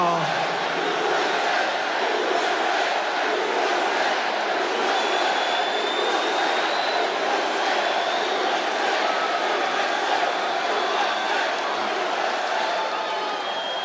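A large crowd at a political rally in Harrisburg, Pennsylvania keeps up a dense, steady roar of cheering and shouting that stays loud and unbroken throughout.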